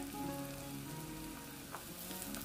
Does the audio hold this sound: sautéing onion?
yes